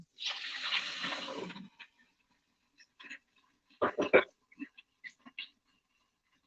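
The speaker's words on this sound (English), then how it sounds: "We pour a little water in here." A short splash of warm water from a kettle pours steadily into a pan of egg fried rice for about a second and a half, followed by a few scattered clinks and taps.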